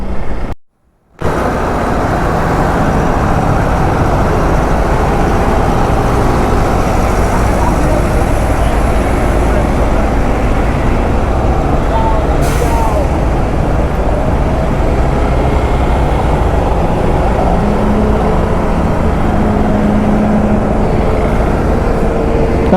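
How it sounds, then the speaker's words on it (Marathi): Heavy road traffic on the Kasara ghat mountain road, a dense, steady roar of vehicles and engines, loud and continuous, after a brief dropout at the start. "हा कसारा घाट आहे, पण घाटामध्ये एवढी ट्रॅफिक आहे ते समजत नाही मला"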